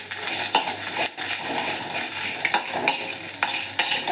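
Curry leaves, coriander seeds and cumin sizzling in hot oil in a pan for a Mangalore-style banana sukka, a steady crackling fry with occasional stirring scrapes and utensil clinks, close and continuous.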